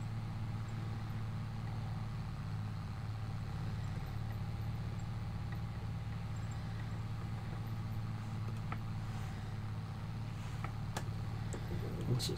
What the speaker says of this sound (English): It's a bit slow on the uptake, this tractor.